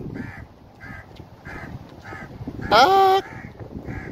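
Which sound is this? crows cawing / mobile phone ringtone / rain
crows cawing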